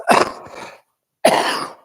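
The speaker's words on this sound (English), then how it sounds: "I got a cough" Two harsh, close coughs from a person, each a sharp burst trailing off, separated by a brief silence.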